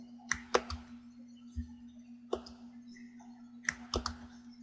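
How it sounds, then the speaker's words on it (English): Several sharp mouse clicks, some in quick pairs, close and fairly quiet over a steady low electrical hum. "I'm going to hold down the Control key and left mouse click"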